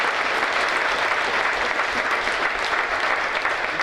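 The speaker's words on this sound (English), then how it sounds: "please give Kathleen a round of applause" A large audience at the Spanish Fork Salem Chamber of Commerce gala awards breaks into sustained, dense applause that holds steady and loud from start to finish, with no break.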